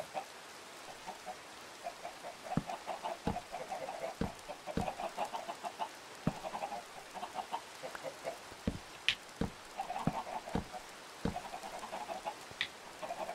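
Chickens clucking in a building video game, soft scattered clucks repeating over a quiet hiss, broken by sharp clicks and taps throughout.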